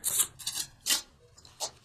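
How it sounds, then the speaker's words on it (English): Tarot cards being shuffled by hand, several soft papery riffles and rubs in short bursts separated by brief pauses, close and quiet with no talking. "Okay, keep shuffling."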